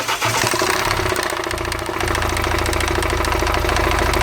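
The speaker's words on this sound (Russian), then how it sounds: "Стук при запуске во время работы двигателя запускаем без крышки." A Hyundai H-1 with a 2.5 CRDI diesel engine starts, then idles with the valve cover off, a rapid rattling knock from the chain tensioner running steadily through the engine noise.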